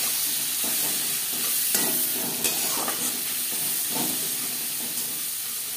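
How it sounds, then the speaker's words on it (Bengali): Three chopped onions frying in oil in a kadai, a strong steady sizzle and steamy hiss with intermittent scraping and stirring clatter, close and loud. "পেঁয়াজ হালকা করে ভেজে নেব।"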